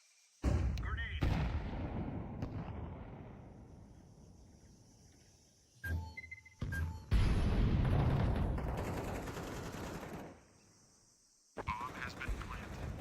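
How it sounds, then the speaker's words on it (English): Grenades burst amid gunfire in a video game shootout, several loud booming blasts with long decaying rumbles separated by brief quiet gaps. "Grenade."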